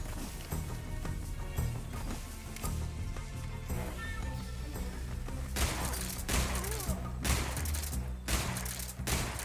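Gunfire in Metal Gear Solid Delta: Snake Eater, with several sharp shots cracking over a busy game soundtrack, the bursts clustering toward the end, at moderate loudness.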